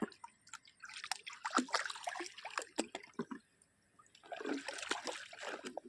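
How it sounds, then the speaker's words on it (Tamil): River water flowing down from Bhavanisagar dam toward Kodiveri, heard up close as irregular splashing, dripping and trickling, louder in uneven bursts with brief quieter gaps. "இந்த தண்ணி தான் பவானி சாகர்லேருந்து வருது இப்போ போகிறது கொடிவேரிக்கு போகுதுங்க"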